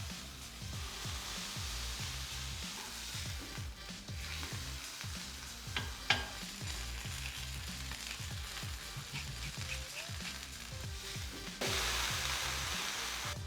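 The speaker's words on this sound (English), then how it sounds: "And start pressing the meat. Look at that! We want exactly the roasted meat." A smashed beef burger patty fries on a hot griddle, sizzling steadily and close, with rhythmic scraping and pressing sounds as it sears and a louder hiss near the end.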